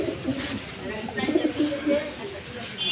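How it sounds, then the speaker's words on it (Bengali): Johnson inbred racing pigeon held in hand cooing softly in low, throaty bursts, faint and close, with someone talking over it. "এটা জনসন ইনব্রিড কবুতর।"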